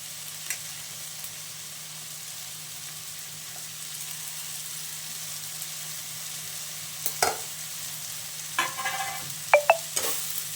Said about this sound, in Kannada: ಹಾಗೇಕಾಯಿ ಕೂಡ ಒಂದೆರಡು ನಿಮಿಷ ಫ್ರೈ ಮಾಡ್ಕೋಬೇಕು